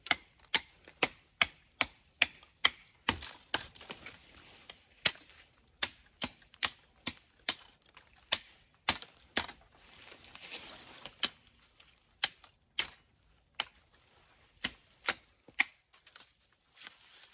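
A FOBOS Alaris camp cleaver chops at branches while delimbing wood, giving a long series of sharp, close, evenly spaced impacts with brief pauses and no voices.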